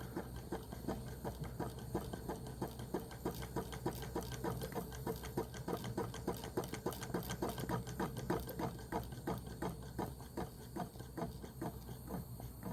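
A small flame licker (gulper) engine runs steadily, giving a fast, even mechanical ticking and patter throughout at low volume, with no voices.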